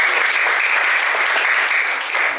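Students clapping together in a classroom, a brief burst of steady, fairly loud group applause with an even, dense texture and no talking over it.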